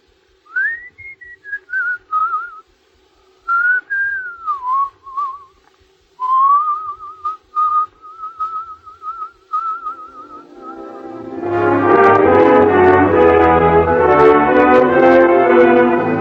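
A person whistles a song, a clear, close melodic line in short phrases with pauses between them, followed by a burst of full orchestral music that takes over at the end.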